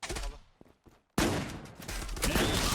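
Shotgun blasts in a Zula first-person shooter tournament match come as a sharp burst, then a brief lull, then a loud sustained crash of gunfire, close and heavy.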